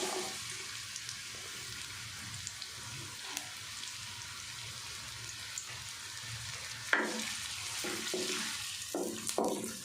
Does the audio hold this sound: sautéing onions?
yes